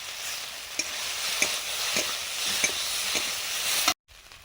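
Soft chikni shak greens sizzling in oil in a pan with boiled potato strips and chilli powder, a steady loud hiss punctuated by light stirring scrapes, cutting off abruptly near the end.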